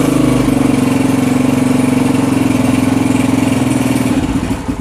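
Motorcycle engine idling close by, a steady even mechanical throb that holds loud and constant, easing off slightly at the very end, with no talk.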